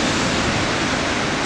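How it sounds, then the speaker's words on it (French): Ocean waves wash onto a sandy beach at the bathing limit on an early morning surf check, giving a steady, dense roar of surf with no distinct break and no voices. "Sur les sables, on a aussi quelques vagues qui passent"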